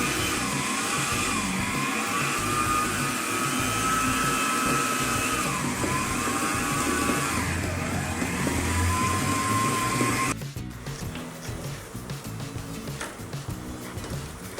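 An electric mixer beats a Nutella cake batter at low speed with a steady motor whine that rises and falls a little as the beaters work, then cuts out sharply near the end, leaving quieter room noise.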